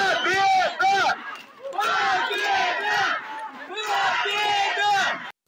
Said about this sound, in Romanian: aceștia au aplaudat și au scandat victorie